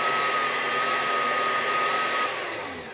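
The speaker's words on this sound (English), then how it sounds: "So in here we have 4 ounces of Philadelphia cream cheese, and I added 2 cloves of garlic. And go ahead and puree that." A blender pureeing 4 ounces of Philadelphia cream cheese with two cloves of garlic, a loud steady motor whine that begins to wind down near the end, with no talk.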